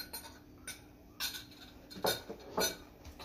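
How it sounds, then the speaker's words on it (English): Pots, pans and cutlery clanging in a home kitchen during cooking, with faint scattered clinks and a few louder metallic clatters at a distance, no voices. "Pardon the clanging noise in the background."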